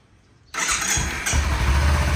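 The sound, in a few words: Kawasaki Z250 motorcycle engine starting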